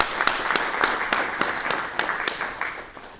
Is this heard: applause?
yes